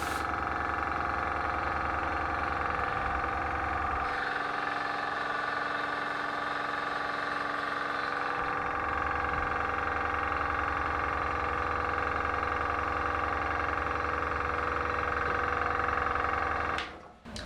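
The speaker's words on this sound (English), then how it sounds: "so you can hear the compressor when it actually kicks in" An Airgoo AG 326 airbrush compressor for painting RC car bodies runs with a steady, fairly loud mechanical hum and drone, its tone shifting slightly midway before it cuts off near the end.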